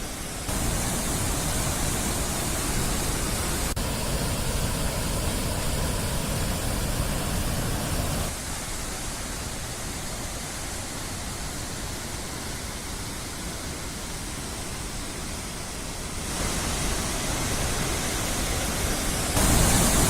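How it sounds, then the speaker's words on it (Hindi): Waterfall swollen by heavy rain in Kawardha, a steady broadband rush of falling water that stays loud and constant throughout, with slight shifts in level and no voices. "इस बारिश के बीच कई जगहों पर सुंदर झरने भी देखने को मिले"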